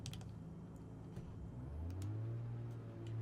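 In the MSFS 2020 flight simulator, the GeeBee R3 Special's engine turns over and catches, a faint low rumble that builds into a steadier, louder drone, with a few clicks scattered over the top.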